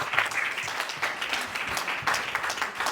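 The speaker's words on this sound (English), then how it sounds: "got special recognition and a round of applause during the birthday party" Round of applause at a birthday party, a close, lively patter of many hands clapping with uneven bursts, steady for a few seconds.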